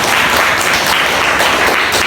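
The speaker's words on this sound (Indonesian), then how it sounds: "Tepuk tangan buat semuanya." A classroom of students applauding together, dense, continuous clapping that stays loud and even for the full two seconds, with no talk over it.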